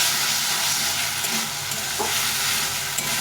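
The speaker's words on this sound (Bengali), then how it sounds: "এই আলুটা কষা হয়ে গেছে তেল খেয়ে দিয়েছে" Potatoes sautéing in hot oil with spices in a pan: a steady, dense sizzle runs throughout with faint stirring scrapes, close and fairly loud, no talking.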